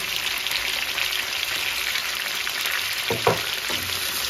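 A steady, dense sizzle of garlic-ginger paste frying in a hot pan, with a few stirring scrapes near the end.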